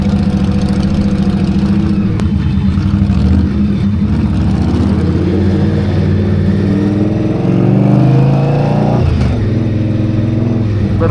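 A motorcycle rolls slowly across a bridge between Manhattan and Queens in New York City, its engine a steady loud mid-pitched drone with gentle rises and falls in revs, close to the recorder and mixed with traffic and road rumble.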